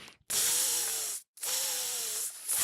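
A voice imitates a gander's hiss in a children's tale: two long, loud, breathy hisses, each about a second, separated by a brief silence, with no other talk.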